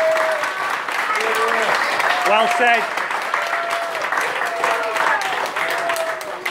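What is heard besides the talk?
applause at rugby club presentation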